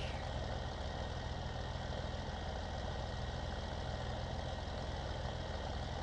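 A tractor engine idles steadily in a PS4 farming game, a constant low mechanical drone with a faint whine, unchanging and alone.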